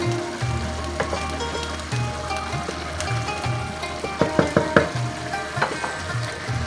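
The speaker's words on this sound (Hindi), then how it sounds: "अभी दम लगने से पहले हल्की सी और हमने इसको शुगर को ड्राई करना है।" Sweet zarda rice cooks down in a pot as its sugar syrup dries, giving a steady bubbling sizzle. A quick run of spoon scrapes and knocks comes midway, with no voices.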